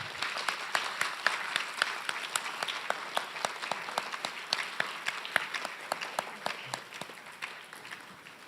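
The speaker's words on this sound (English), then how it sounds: "Let's give them a round of applause, everyone." Applause from a school audience at a Veterans' Day ceremony, a moderately sized crowd clapping in a steady patter with distinct individual claps standing out, continuous and fairly close.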